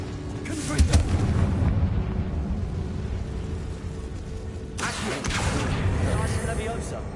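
A Confringo blasting spell in Hogwarts Legacy goes off as a loud, full-bodied boom with a whooshing burst, followed by a second blast and rumbling debris over a steady background of game sound and speech.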